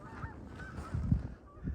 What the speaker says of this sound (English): Now these geese, they're coming from Canada